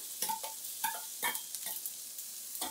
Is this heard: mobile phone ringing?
no